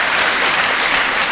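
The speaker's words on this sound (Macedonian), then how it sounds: "Аплаузи за мене." A theatre audience applauds loudly and steadily, a dense wash of clapping with no gaps.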